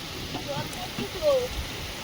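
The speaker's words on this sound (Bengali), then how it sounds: "বেশ ভালোই বৃষ্টি শুরু হয়েছে আমাদের এখানে।" Heavy rain pours down in a thunderstorm, making a steady close hiss with faint scattered drops. The sound stays even over a brief moment.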